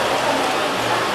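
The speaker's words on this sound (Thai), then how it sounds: "ตอนนี้เสียงฟ้าฝนอาจจะแรงนิดนึง" Heavy rain pours in a steady, dense wash outdoors near an elephant. The rain is loud and continuous for the whole stretch, and no separate thunderclap stands out.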